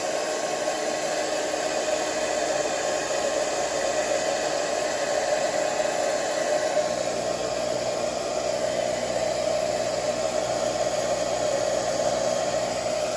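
A hair dryer blows a thick, full beard dry with a constant close-up roar of rushing air. Partway through, a deeper hum settles in underneath and continues to the end.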